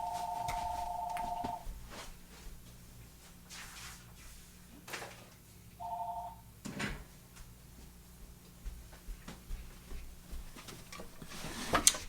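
A telephone rings with two distinct electronic bursts, one long ring at the start and a shorter one a few seconds later, in an otherwise quiet room with faint handling noises and no talking.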